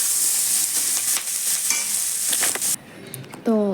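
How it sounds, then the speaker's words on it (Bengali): Small crabs fry and sizzle in a hot pan with a steady, loud hiss, broken by stirring scrapes, before the sizzle cuts out near the end. "তো দেখো আমার এখানে কাঁকড়াগুলো প্রায় ভাজা কমপ্লিট"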